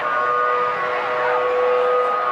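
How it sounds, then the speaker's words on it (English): Stadium siren at a rugby match between the All Blacks and South Africa, a loud steady wailing tone sustained throughout over faint crowd noise. "as the siren sounds"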